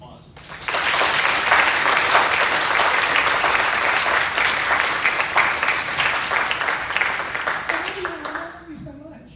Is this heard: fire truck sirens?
no